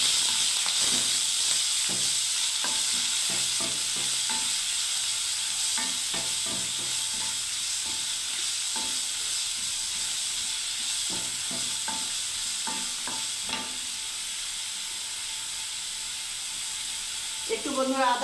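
Onion paste sizzles in a hot pan after a bay leaf has gone in, a steady bright hiss with scattered crackles and occasional scraping stirs throughout.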